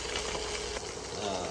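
Pork ribs frying in a pan make a continuous broad sizzle, steady and fairly quiet, with no clear voices.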